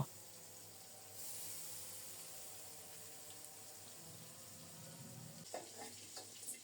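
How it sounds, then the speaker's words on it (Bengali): Hilsa fish pieces frying in hot mustard oil, a soft hiss that swells after a moment, followed by brief sputtering crackles toward the end, faint and without speech. "সরিষার তেল গরম হলে মাছের পিসগুলো একে একে সব দিয়ে দেব এপিট ওপিট করে একটু ভেজে নেব"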